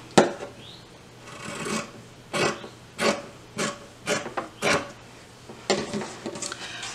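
Scissors snipping through a fabric-covered webbing strap beside a sewn seam, about ten short crisp cuts in an uneven rhythm, close and clear with no talking.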